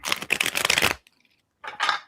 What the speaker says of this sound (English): you're working on a bridge shuffle